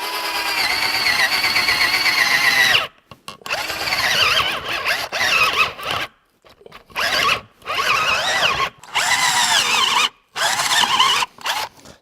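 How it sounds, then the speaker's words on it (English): A cordless drill fitted with a paddle bit whines and strains in repeated bursts, the underpowered motor cutting out and restarting several times with high-pitched grinding squeals. "that is not a nice sound inside of that drill."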